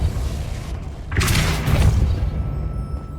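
A Depulso spell is cast in Hogwarts Legacy as a single deep, booming whoosh-thud over steady low game ambience, followed by a brief rumbling tail.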